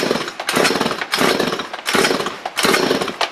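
A freshly tuned Stihl MS 192 TC chainsaw runs after starting, its engine revving up and down in four loud bursts with brief dips between, close by and alone.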